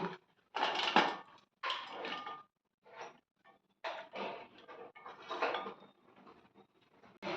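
Drained cluster beans tumble onto a metal plate in short bursts of clattering scrapes and light clinks, separated by brief quiet pauses.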